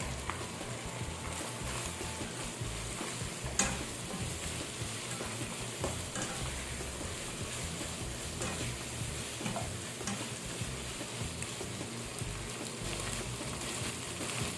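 Boiled chicken feet fry and sizzle steadily in a pan with shrimp paste, under a constant crackling hiss and occasional stirring scrapes, with no voices.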